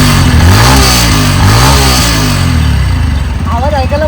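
A brand-new motorcycle revs loudly up close, its engine note swooping up and down in repeated throttle blips before settling toward a lumpy idle, with a few short voice sounds near the end.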